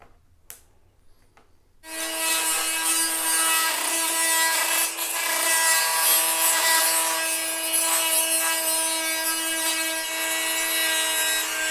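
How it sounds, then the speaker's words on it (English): Cutters work through the plastic flange on a Honda CB500X motorcycle throttle, producing a loud, sustained grinding, rasping whine close by after a brief quiet start with a couple of small clicks. "we're going to cut this flange off of the throttle. So we'll try to snip it off with some cutters."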